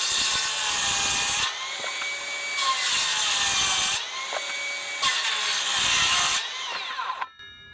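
Cordless circular saw cutting through wood in several loud, close bursts of high whining blade noise, each a second or two long, separated by brief pauses, the last cut ending abruptly.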